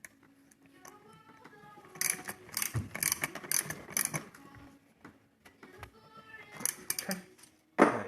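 A hand ratchet tightens a skateboard bearing, giving bursts of dry clicking that start and stop in short runs, with quieter pauses between strokes.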